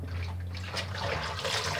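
A Panasonic washing machine draws in water during a quick wash cycle, giving a steady hissing, trickling inflow heard close up without speech.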